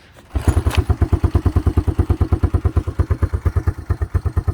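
A Honda Fourtrax ATV engine starts after a short crank and settles into a fast, loud, evenly pulsing idle, close by.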